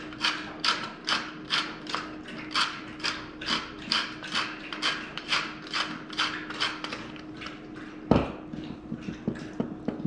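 A hand grinder cracks salt and pepper over tuna poke in a steady series of about twenty rhythmic ratcheting crunches, close and crisp, with a sharp knock near the end followed by a few lighter clicks.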